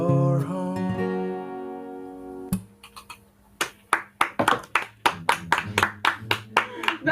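Irregular hand claps from someone on an online video chat, about ten sharp slaps in the second half, following a stretch of singing with harmonic tones at the start.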